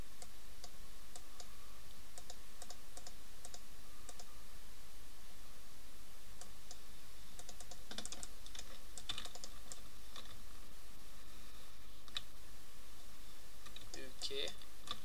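Steady stream of computer keyboard typing while writing ROBLOX Lua script code, rapid irregular clicks with occasional bursts of louder keystrokes, close and dry throughout.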